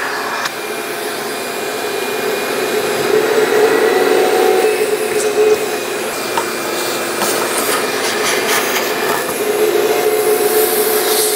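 A vacuum cleaner runs steadily and close, its loud hissing drone shifting slightly as the nozzle moves around the cabin air filter housing of a 2006-2013 Chevrolet Impala, with small rattles of debris being sucked up.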